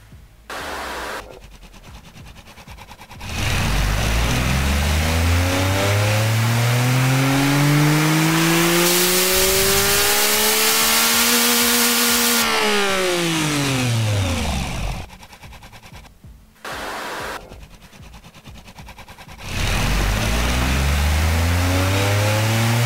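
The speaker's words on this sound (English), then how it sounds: "This engine sounds absolutely crazy." A loud three-cylinder video game car engine revs up in long sweeping rises and falls, climbing to a high whine and dropping back, with gear-shift breaks between surges.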